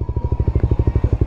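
A Suzuki Raider motorcycle engine thumps in a fast, even pulse while the bike crosses a river, loud and close throughout the short stretch, with no talking.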